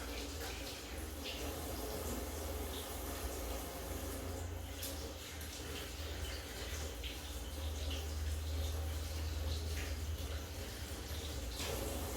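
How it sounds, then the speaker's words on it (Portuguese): Running tap water pours steadily over potatoes being washed in a kitchen sink, a close, continuous splashing stream with small surges, while a person speaks intermittently over it. "E agora eu vou lavar em água corrente,"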